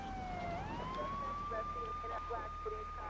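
A police car siren from the Grand Theft Auto video game wails steadily at moderate distance, its pitch sweeping up then holding, while a voice speaks faintly underneath.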